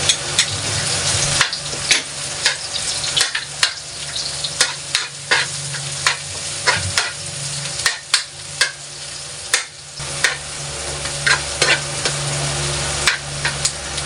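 Onion fries in a hot pan for Sprite pork adobo, a loud steady sizzle broken by frequent rhythmic scraping strokes of stirring, close up with no talking.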